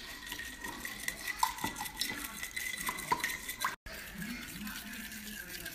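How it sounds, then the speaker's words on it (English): A whisk scrapes and clinks against a bowl, beating olive oil, apple cider vinegar, salt, pepper and Dijon mustard into a dressing, with steady close-up rhythmic strokes and a brief dropout near the end. "and we simply whisk it"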